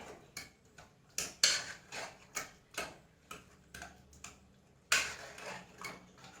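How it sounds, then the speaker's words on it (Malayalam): A spoon stirs red yam stew in a metal pot, knocking and scraping against its sides in an irregular string of close, crisp clinks with brief pauses between. "ഇനി നമുക്കിതൊന്നും ഇങ്ങോട്ട് ഇളക്കി കൊടുക്കാം"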